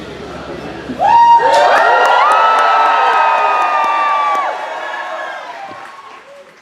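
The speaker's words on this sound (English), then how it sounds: "I want you to cheer as loud as you can" A big crowd of children at a comic con cosplay contest cheers and screams loudly for several seconds, the noise peaking early and then tapering off.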